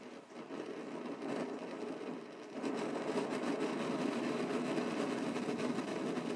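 An Optimus Hiker multifuel backpacking stove burner fed with white gas sputters and roars steadily, a close, continuous rushing noise that grows louder partway through, with no speech.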